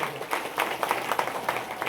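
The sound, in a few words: audience applause at a kirtan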